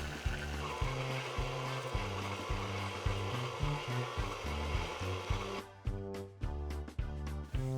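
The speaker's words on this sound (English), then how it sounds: "Run the mixer at low speed until the dough comes together and pulls away from the sides of the bowl." A stand mixer with a dough hook kneads pretzel dough at low speed, giving a steady motor hum with a regular, repeating thumping pulse as the dough turns in the bowl, continuous and fairly close.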